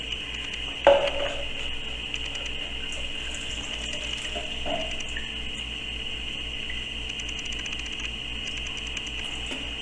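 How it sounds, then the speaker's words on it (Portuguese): 96% alcohol pours steadily into a mixture for a gel shine paste, making a continuous close trickling and splashing sound with a brief clink near the start. "Agora vamos colocar já 300 ml de álcool."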